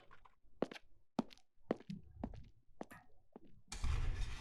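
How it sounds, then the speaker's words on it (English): Footsteps in the video game Danganronpa 2 Reload, heard entering a factory: a series of distinct, hollow thuds spaced about half a second apart, followed by a burst of broadband noise at the end. "I love the sound of footsteps there."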